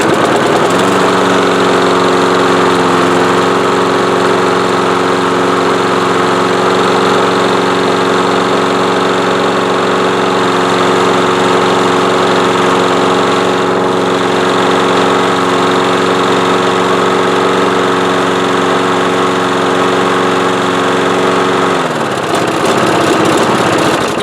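A Craftsman lawn mower engine, a curbside trash find, runs steadily at a loud idle for about twenty seconds before cutting off near the end, with a constant rumbling drone.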